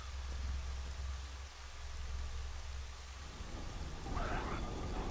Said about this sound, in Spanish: esto se escucha como si estuviera lloviendo